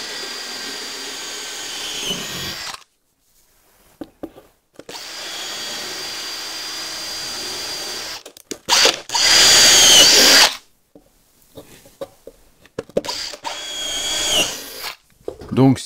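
Jigsaw fitted with a fine scroll blade cuts wood to shape a template, running in several loud sustained bursts separated by pauses, close-up and dominant.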